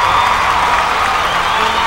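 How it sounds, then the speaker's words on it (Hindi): Audience at a Bhojpuri music competition stage show applauding, a steady wash of clapping and crowd noise with faint cheering, loud and continuous throughout. "जोरदार ताली बजाएंगे"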